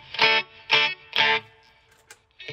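A G&L S500 Strat-style electric guitar plays three loud, distorted strummed chords in a steady rhythm, then a few short, quieter notes.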